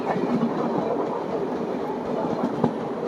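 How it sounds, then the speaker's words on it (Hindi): Paschim Express train passing at 130 km/h between Mathura and Delhi, a dense steady rumble with rapid wheel clatter on the rails, loud and close throughout. "मेरे हिसाब से जहाँ तक ये पश्चिम एक्सप्रेस है"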